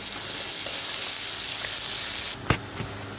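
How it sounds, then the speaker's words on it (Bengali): Chopped onions fry in hot oil for a home-style fish curry, giving a steady close sizzle with a few clinks of a utensil near the end. "পেঁয়াজটা ভেজে নেবো এবারে"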